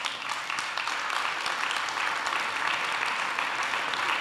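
A church congregation applauding in a steady, dense wash of clapping that holds evenly throughout, with no talk over it.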